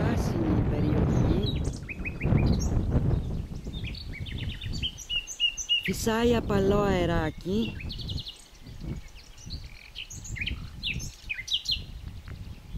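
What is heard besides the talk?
nightingale singing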